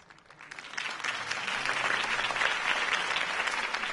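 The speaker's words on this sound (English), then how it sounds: "If only Mr. Wayne, my campaign's largest backer, could have heard that applause" A video game crowd claps and cheers in sustained applause that swells slightly and holds steady, fairly distant, in a Batman game.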